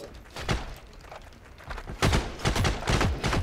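Enemy gunfire in the war shooter Heroes and Generals, bursts of sharp rifle and machine-gun shots cracking out in uneven volleys, some close and some farther off, with no talk over them.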